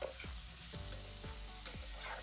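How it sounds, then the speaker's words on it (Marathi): Onion, tomato, ginger and garlic sauté in oil left from frying eggs over a chulha, a faint steady sizzle with rhythmic stirring scrapes roughly every half second. "त्या तेलामध्ये कांदा, टोमॅटो, अद्रक आणि लसूण परतून घ्यायचा लाल होईपर्यंत"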